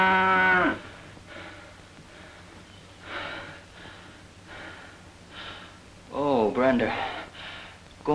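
A sick cow on a farm lets out several drawn-out moos separated by pauses, close and loud, with snorting breaths in between.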